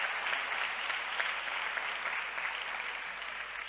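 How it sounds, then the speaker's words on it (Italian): An audience applauds at a talk about women in history, a dense, steady clapping that stays even in loudness throughout with no voices on top. "possiamo magari fargli un applauso"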